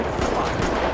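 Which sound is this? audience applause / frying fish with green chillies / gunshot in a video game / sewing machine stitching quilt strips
gunshot in a video game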